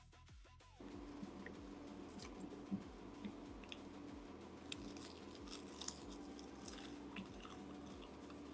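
Crunchy nori snacks are chewed close to the mic, with repeated crisp bites and crunches in a steady rhythm over a low constant hum.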